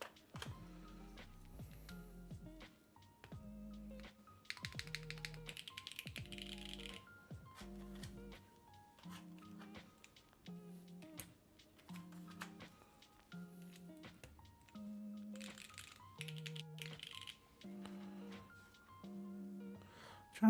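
Clicky keystrokes on a custom mechanical keyboard, quiet and close, in uneven bursts with pauses and some rattly spacebar thocks, no speech.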